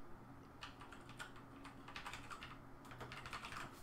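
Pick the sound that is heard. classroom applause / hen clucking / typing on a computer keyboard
typing on a computer keyboard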